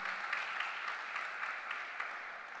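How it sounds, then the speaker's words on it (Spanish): A church congregation claps for the Lord during a Spanish-language sermon, a steady, dense wash of many hands sustained through the whole stretch without voices. "Dele un fuerte aplauso al Señor."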